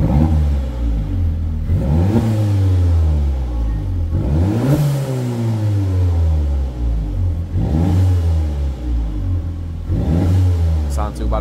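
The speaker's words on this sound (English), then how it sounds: "Just get a couple of revs so you can hear it now." A VW Polo 1.8 GTI with its exhaust backbox deleted revs repeatedly in an echoey indoor space, three loud sweeping rises and falls of engine pitch over a constant rumbling idle.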